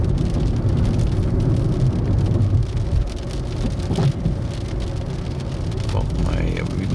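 Heavy rain from a strong storm pours steadily and loudly on surfaces nearby, a dense constant hiss with low rumbling underneath and occasional voices in the mix.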